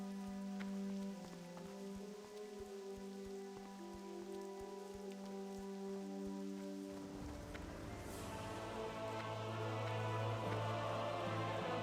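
Rain falling in Stormwind in the World of Warcraft video game: a soft steady patter of raindrops under game ambience and music, faint at first and then swelling fuller and denser about midway through.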